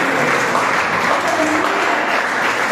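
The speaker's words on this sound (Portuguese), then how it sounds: "Bate as palmas para Jesus." Church congregation clapping hands in praise during a worship service, steady dense applause filling the room without pause, a voice faintly audible underneath.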